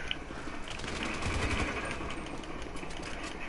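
A gun in a video game fires rapid, sustained automatic bursts, a dense rattling stream of shots that swells slightly midway and stays continuous throughout.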